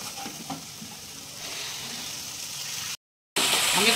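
Banana kofta fry in a pan, a continuous close sizzle and crackle with a few soft stirring knocks, broken by a short silent gap before the frying noise returns louder.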